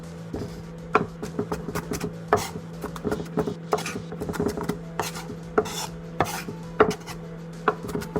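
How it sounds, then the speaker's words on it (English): A knife chops habanero chilies on a board in quick, uneven strokes, each cut a sharp close knock, irregular and steady throughout with no talking. "Be careful cutting chilies."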